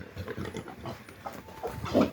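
A pig grunts and snorts repeatedly near a well-side pool, short low rough grunts coming in an uneven rhythm, close and fairly loud at the end.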